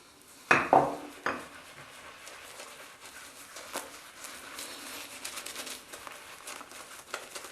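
Barrister & Mann Rhapsody shaving soap lather is stirred up, opening with a few sharp clatters against the container, then soft, wet, crinkly swishing that continues quietly and unevenly.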